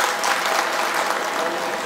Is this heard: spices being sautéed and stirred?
no